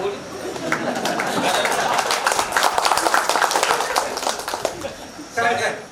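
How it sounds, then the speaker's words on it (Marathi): Applause from an audience at a 2005 get-together reunion, a crowd clapping steadily for several seconds, fairly near, with a brief burst of clapping and murmuring at the end. "कधी मी भाषणाला उठलं म्हटले की टाळ्या ठरलेल्या आहेत, पण आताही मी उठलो म्हणजे तुम्ही टाळ्या म्हणता"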